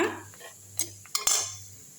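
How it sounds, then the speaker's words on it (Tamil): A spoon stirs leftover-idli chilli manchurian with vegetables in a pan, a few distinct metallic clinks and scrapes against the pan over a low steady hum, fairly quiet and close. "உங்களுக்கு பிடிச்ச வெஜிடேபிளை வந்து நீங்கள் போட்டுக்கலாம் நல்லா கிண்டி விட்டுருங்க"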